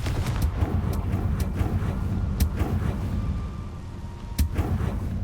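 A Confringo blasting spell cast in Hogwarts Legacy sets off several sharp cracking blasts over a low rumbling background. The bursts come at irregular intervals and are moderately loud, with no talk.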